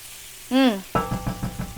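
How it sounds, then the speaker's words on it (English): Spices hit hot oil in a pan for a samosa potato filling: a brief squeaky tone, then a sudden loud sizzle that keeps crackling with stirring pulses, close and clear. "when you cook these spices, it's gonna add way more flavor to the potatoes"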